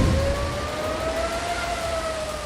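Air raid sirens wail over Israeli cities during an Iranian ballistic missile attack, a sustained rising and falling tone that carries loud and steady above a rumbling background with no speech.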